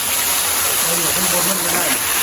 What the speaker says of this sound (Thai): เป็นน้ำตกนะครับ นี่ไหลลงมาด้วย